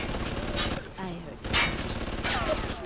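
Turret gunfire in BioShock on Xbox 360, heard as rapid bursts of distant shots under a continuous game soundscape while someone talks over it.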